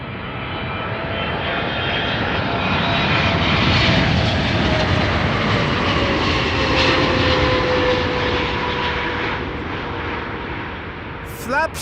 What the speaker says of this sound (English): Next up is China Southern Cargo, flight 2697, arriving from Chongqing in China.